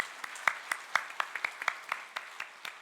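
Scattered hand clapping from a church congregation, sharp irregular claps in a modest room, fairly close and not very loud, no one talking over it.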